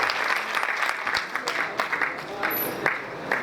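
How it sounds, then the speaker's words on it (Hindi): A loud round of applause for the directors at a Vestige business event, crisp, uneven clapping rising and falling in waves, with a faint voice partly mixed in. "एक बार जोरदार तालियां हमारे डायरेक्टर्स के लिए।"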